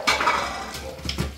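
Dishes are washed by hand at a sink, with close clinks and clatters of plates and cutlery in quick irregular bursts and a faint running-water hiss beneath.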